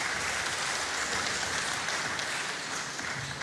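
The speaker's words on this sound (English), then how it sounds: "please give them a round of applause again" Audience applause for a team at a hackathon event, a steady wash of many hands clapping that fills the whole moment at an even level without a break.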